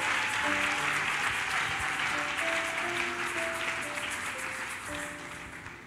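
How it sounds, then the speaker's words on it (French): A church congregation claps and cheers together, a dense steady wash of applause with a sustained tone ringing through it, gradually easing off near the end. "Acclame comme ça"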